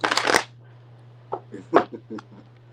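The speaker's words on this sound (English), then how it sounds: "Oh, that was terrible shuffle." Someone shuffles a deck of cards in a quick close riffle burst, then makes a few softer scattered card taps and flicks, with light talk around it and a low steady hum underneath.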